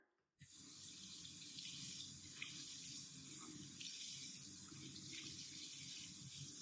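Cool tap water runs steadily while hand-washed laundry, cleaned with detergent sheets, is rinsed beneath it, a soft continuous splashing that starts abruptly and stays even and fairly quiet.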